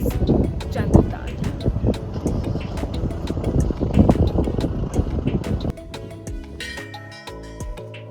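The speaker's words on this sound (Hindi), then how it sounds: "And it's very very windy." Strong wind at a cold mountain pass in Spiti Valley buffeting the microphone in heavy gusts, loud and rough for most of the stretch before easing near the end, with talk over it.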